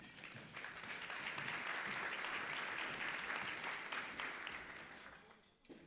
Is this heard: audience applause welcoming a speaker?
yes